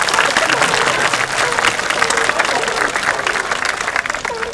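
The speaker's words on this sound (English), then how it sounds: "Let's give our sea lions a big round of applause." An audience at a zoo sea lion show claps loudly, with dense, sustained applause that holds steady throughout.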